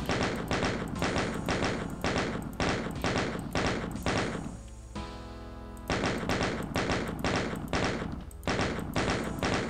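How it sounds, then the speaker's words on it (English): Rapid repeated chaingun shots in Doom 2 rattle in dense bursts, broken by a brief pause with a different tonal sound before the steady firing resumes, loud and close. "We get a chain gun sniping session."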